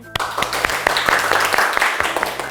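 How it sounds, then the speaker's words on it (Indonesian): Schoolchildren in a classroom clapping for their classmates after a group lesson: a short burst of quick, uneven hand claps from a small group, fairly close, with a few sharp individual claps standing out. "sekarang coba berikan apresiasi kepada teman-teman kalian dengan tepuk tangan"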